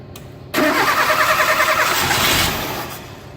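A carbureted Renault 12 Toros engine cranks briefly and catches at once without throttle, settling into a steady, close, loud idle that eases off slightly toward the end.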